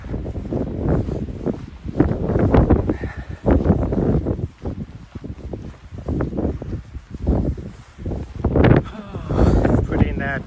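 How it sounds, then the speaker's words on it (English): Gusty wind on a mountain trail in Montana thumps and rumbles against the microphone in loud, uneven bursts, rising and falling throughout with brief lulls between gusts. "Ooh, it is getting windy. It's supposed to get windier."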